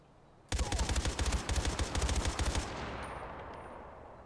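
Sustained minigun burst in the video game Far Cry 4, a dense rapid rattle of shots lasting about two seconds, loud and close, then fading into a lingering echoing tail.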